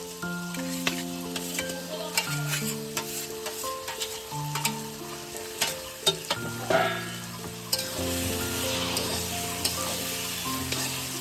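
Potatoes and shrimp sizzle steadily in hot oil for a banana flower (mocha) curry, a continuous frying crackle with occasional stirring clicks, layered under tuneful background music.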